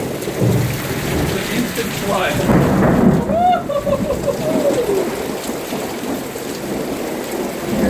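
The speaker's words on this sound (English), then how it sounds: "Sheets of rain and wind here now." A heavy downpour during a lightning storm roars as wind-driven rain lashes down in sheets, loud and continuous, with a voice speaking over it partway through.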